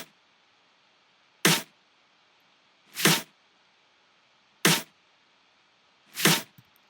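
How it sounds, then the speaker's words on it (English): Layered snare drum samples for a future bass track, one of them reversed: four evenly spaced, sharp bright hits with silence between, alone and clean. "the next section is just my snare, and it's just two samples really"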